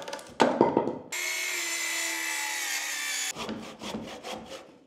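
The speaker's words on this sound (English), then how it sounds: "Finish off handsaw." A handsaw cuts through a wooden loft hatch frame in one sustained stretch of about two seconds, close and clear, framed by knocks and rustling of wood being handled.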